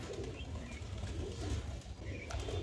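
Racing pigeons arrive and settle during a pigeon race, with soft cooing and fluttering against a loud, rumbling outdoor background.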